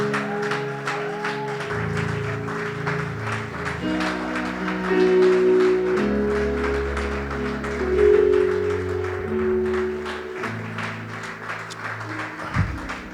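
Church congregation clapping steadily along with music, a continuous rhythmic patter of many hands under sustained instrumental tones.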